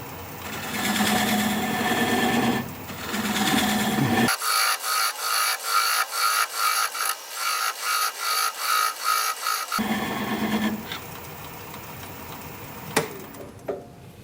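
Acacia live edge bowl turning on a wood lathe, the gouge cutting in steady rhythmic pulses of rasping scrape over a continuous motor whir, close and fairly loud with brief pauses.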